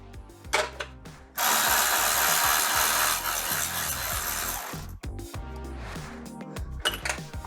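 A power tool loosens a 12 mm bracket bolt on the front hub of a 1996–2002 Toyota 4Runner, a steady loud grinding burst of about three and a half seconds, followed by softer clanks and handling noises.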